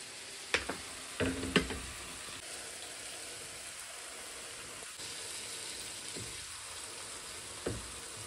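Hilsa fish goes into a pan of hot spice paste with a few sharp knocks and splutters, then settles into a faint, low sizzle.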